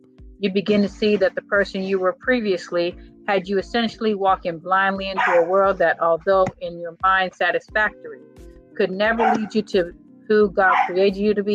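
A dog barks repeatedly in the background while someone speaks continuously over it, the barks mixed in with his talk.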